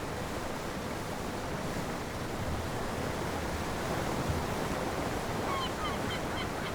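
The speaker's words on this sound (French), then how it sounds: "Ce petit détroit est connu pour l'un des plus puissants courants de marée dans le monde, qui provoque de tourbillons déchirant la surface de l'eau." Strong tidal current churning with whirlpools at the Saltstraumen strait in Norway, heard as a constant rushing wash of water mixed with wind, loud and steady from start to finish.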